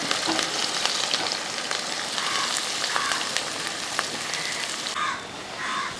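Ginger, green chilli and onion fry in hot oil for Kerala-style puli inji, giving a loud, steady, close sizzle and crackle throughout, easing slightly near the end, with no talking.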